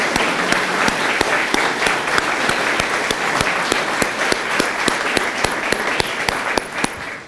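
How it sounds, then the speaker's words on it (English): Large audience at a tourism awards event clapping for former award recipients, a loud, sustained round of dense applause close by with a few sharp individual claps standing out in a steady rhythm. "please stand and let us give you a round of applause"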